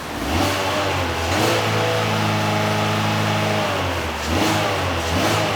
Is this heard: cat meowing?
no